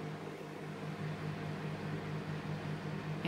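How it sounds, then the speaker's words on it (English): A microwave oven hums steadily while melting chocolate, a continuous low drone with faint fan-like noise and no voices. "show you what they look like as they come out of the microwave, because chocolate burns really easily"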